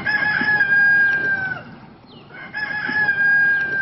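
Two roosters crow one after another in a quiet rural morning, each long, clear cock-a-doodle-doo carrying over soft background murmur, with a brief lull between the calls.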